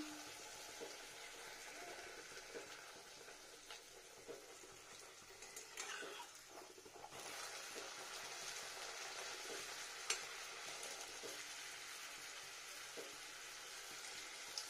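Luchi, a puffed flatbread, fries in hot oil with a steady crackling sizzle and occasional stirring clicks and scrapes, fairly close and unbroken by talk.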